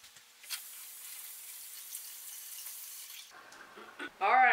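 A head of cabbage rinsed under a running kitchen tap; a steady hiss of flowing water for about three seconds, then the flow stops and a few clattering handling sounds follow at close range.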